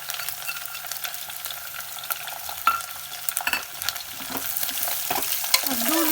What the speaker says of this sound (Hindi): अब 2 मिनट प्याज आलू के भूज लेबे।